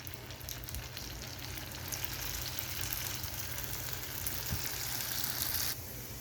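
Food frying in hot mustard oil in a wok, with a steady faint crackling sizzle throughout and no voices.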